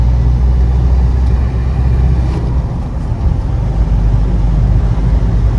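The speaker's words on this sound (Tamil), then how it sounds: "நான் ஒரு ஓவர்டேக் எடுக்கிறேன்னா ஒரு டவுன் ஷிஃப்ட் பண்ணுறேன்," A Mahindra Bolero BS4 accelerating hard after a downshift to overtake, its engine a steady, loud low rumble with road and wind noise throughout and no voices.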